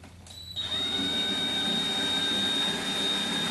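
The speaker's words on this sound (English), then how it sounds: "I'm drilling a hole" A steady, high-pitched power drill whine drilling a hole for a self-tapping screw under the hood of a 1976 Corvette restomod starts after a brief quiet moment and runs continuously, close and loud, with no voices.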